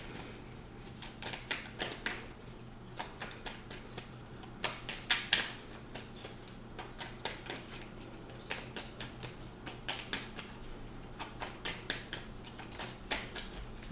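Tarot cards being shuffled by hand, a steady run of quick papery riffles and soft slaps close up, repeating in bursts over a faint background hum.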